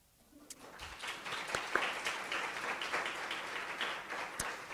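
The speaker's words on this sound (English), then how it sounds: "give them a round of applause" Audience applause at a summer research symposium, clapping that swells quickly from near silence and continues steadily, a moderate room-filling patter with no talk.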